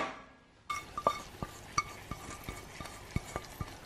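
Magic sauce being stirred into beef and broccoli in a pan, with a utensil scraping and clinking against the cookware in a run of light taps and clacks after a quiet start.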